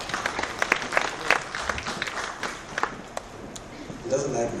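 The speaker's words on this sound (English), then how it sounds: "Please applaud Engineer Tobe." An audience at an eGovernment summit applauds a speaker, scattered uneven claps that thin out, with footsteps and murmured voices mixed in.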